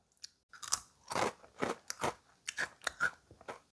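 Someone chews crunchy fried fish snacks close to the mic, a quick series of crisp bites and crunches with brief pauses between them.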